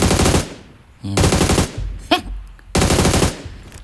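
Repeated rapid automatic gunfire from the PUBG battle royale game comes in three loud, close bursts with short gaps between them and a brief sharp shot in the middle.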